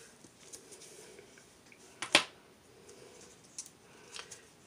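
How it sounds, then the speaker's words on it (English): A single sharp snip of non-stick black-bladed scissors rings out clearly in a quiet room, followed by a few faint small clicks. "These scissors with the black blades are non-stick scissors"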